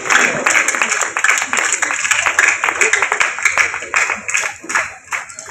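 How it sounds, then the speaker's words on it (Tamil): Audience clapping at a priest's silver jubilee celebration, a dense, loud round of many hands with crowd murmur mixed in, slightly uneven and tapering near the end. "அனைவரும் ஜோரா கைத்தட்டி நம்முடைய வாழ்த்துக்களையும் பாராட்டுகளையும் தெரிவித்துக் கொள்வோம்"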